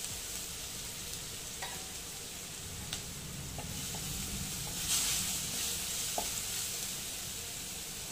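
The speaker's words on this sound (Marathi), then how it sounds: "आता तेल तापलेलं आहे इथे मी जिरे टाकून घेते आणि मिरची कोथिंबीर आणि आलं आणि लसूण जे ठेचून घेतलेलं आहे" Cumin, chilli, coriander, ginger and crushed garlic sizzle steadily in hot oil, a continuous close hiss with a few light stirring taps and a brief louder spitting burst midway; no talking.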